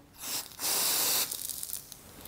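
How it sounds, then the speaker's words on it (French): A can of cold spray hisses onto a chocolate bottle in a pastry kitchen, with a short burst followed by a longer steady blast, close and loud, then fading into faint rustling. "Et cette fois-ci, je mets la bombe à froid."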